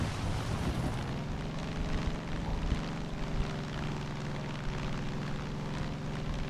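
A plane in Far Cry 5 accelerates down a runway for takeoff: a steady, loud engine roar with a droning hum holds throughout, and no one talks over it.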